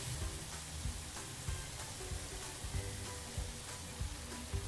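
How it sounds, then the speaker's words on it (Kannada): Tomatoes salted and cooking in a pan over a medium flame give a steady, soft sizzle with faint stirring clicks and light taps recurring throughout, fairly quiet and with no one talking. "ಇದನ್ನು ಮೀಡಿಯಮ್ ಫ್ಲೇಮಲ್ಲಿನೇ ಬೇಯಿಸ್ಕೊಳ್ಳಿ ಟೊಮ್ಯಾಟೊ"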